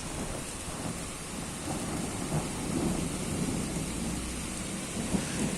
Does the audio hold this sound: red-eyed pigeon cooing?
no